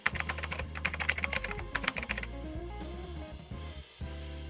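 Fingers type on a System76 Launch mechanical keyboard, producing rapid clusters of crisp clacky keystrokes in quick bursts for about two seconds, then a few scattered, softer presses at close range.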